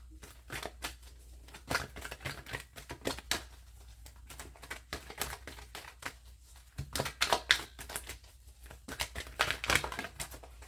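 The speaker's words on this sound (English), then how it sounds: "Let me shuffle." Tarot cards are shuffled by hand in quiet, irregular bursts of crisp riffling and slapping, close and soft, with pauses between flurries.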